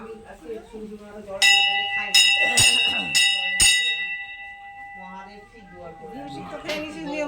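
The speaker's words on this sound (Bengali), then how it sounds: "ঘন্টাটাও বাজিয়ে নিলাম" A bright temple bell at a Baba Loknath temple in the Sundarbans clangs five times in a quick burst, ringing on afterward, while people talk nearby before and after the strikes.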